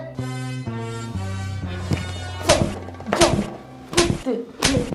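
Someone being beaten in a comedy scene, four or five heavy thumping blows landing at a quickening pace over a background of music.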